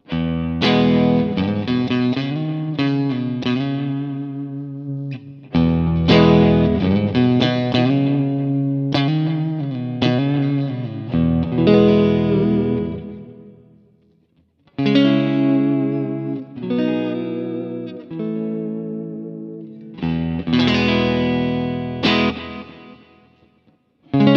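Electric guitar chords ring out through a Kemper amp profile with a full, slightly driven, AC30-like tone, played in strummed phrases with short gaps and sustained notes.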